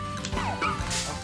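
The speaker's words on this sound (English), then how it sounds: "Ah, dog!" A dog gives a few close, sharp barks and yips mixed with a short whimper, heard indoors during a video game stream.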